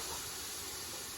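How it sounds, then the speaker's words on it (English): Wet leeks sizzle in browned butter in a pan, a steady, dense hiss that runs on without a break. "since they're wet, they're gonna sizzle quite a bit."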